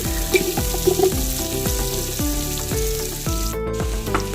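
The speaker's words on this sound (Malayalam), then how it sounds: "അഞ്ച് പച്ചമുളക് നന്നായിട്ട് വഴറ്റിയെടുക്കാം" Onion, garlic, ginger and green chilies sauté in a pan for chicken mandhi, giving a steady sizzle beneath a looping melodic music track, with no speech.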